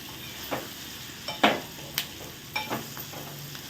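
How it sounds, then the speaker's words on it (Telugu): Brinjal pieces fry in a pan for a brinjal, potato and tomato curry: a soft, even sizzle broken by several crisp spatula scrapes and taps, heard up close with no one talking. "ఆ తర్వాత వంకాయలు వేసుకుందాం. వంకాయలు కూడా కొంచెం వేగిన తర్వాత టమాటా పెట్టేద్దాం."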